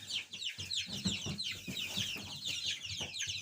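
Young broiler chicks clucking and peeping while pecking at ground grain feed, a busy overlapping chorus of soft chirps close by, steady throughout with no talking.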